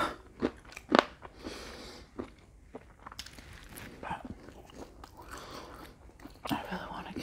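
Crunchy chewing of brown fried rice mixed with dry chickpeas, alongside halibut, comes as several sharp, close bites and crackly mouthfuls at an irregular pace over a faint, noisy household background.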